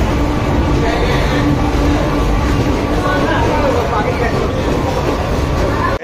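A train stands at a crowded railway platform in Guwahati, with a loud, continuous low rumble and machinery hum. The babble of a packed crowd and nearby voices run underneath throughout.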